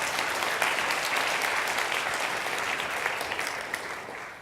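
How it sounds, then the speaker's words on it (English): An audience applauds a keynote speaker at a corporate conference, steady dense clapping from a full hall that holds evenly and starts to fade toward the end. "Another applause for him"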